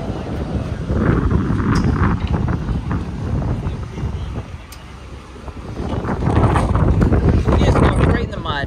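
Strong wind buffets the microphone at a muddy dirt track sprint car racing venue, a steady roaring rumble that surges and dips with the gusts, with faint talk mixed in.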